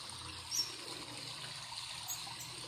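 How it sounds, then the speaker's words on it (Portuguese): Steady rushing water from a waterfall recording, played to a bird, runs faintly and evenly throughout without pause. "Esse som de cascata"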